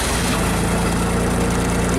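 A JLG scissor lift engine runs at a steady idle, a close, continuous mid-to-low rumble with an even pulse throughout and no voices.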